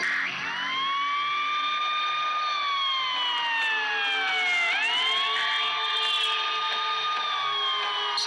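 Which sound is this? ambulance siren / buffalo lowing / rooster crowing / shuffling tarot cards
ambulance siren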